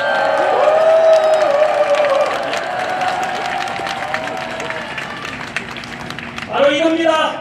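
Outdoor crowd applause at a large prayer rally in Yeouido, Seoul: dense clapping and cheering from many people continue steadily, with a louder burst of cheers near the end.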